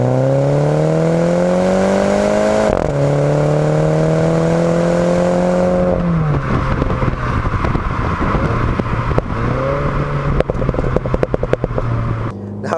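2017 Mini John Cooper Works Convertible exhaust in sport mode with its valve wide open, revving loudly close by, rising and falling in pitch with crackles and pops as the throttle eases, with no talking.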